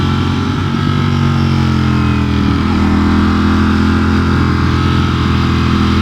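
A Ducati Streetfighter V4S is ridden hard, its engine loud and close, with a dense, continuous roar that shifts pitch slightly as the rider works the throttle.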